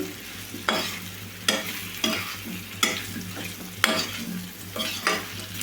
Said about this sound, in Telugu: కొంచెం పసుపు ఇట్లా బాగా కలుపుకోవాలి